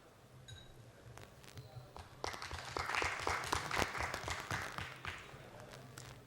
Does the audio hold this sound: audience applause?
yes